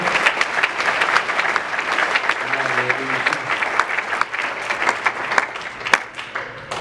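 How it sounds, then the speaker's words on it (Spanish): A church congregation at Templo Cristiano Getsemani in Apopka, Florida claps steadily and loudly for several seconds, a dense even applause with scattered sharper claps and a faint voice underneath. "Denle fuerte el aplauso al Señor."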